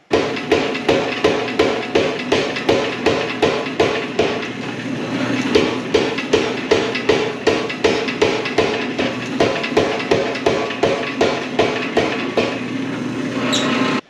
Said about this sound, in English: always wear your earplugs when you're running the power hammer